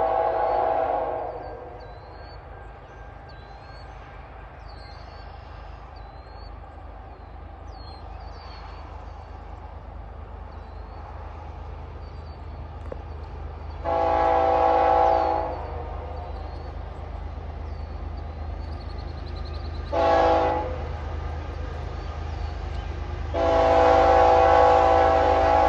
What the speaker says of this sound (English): here comes a southbound train at Albert Street.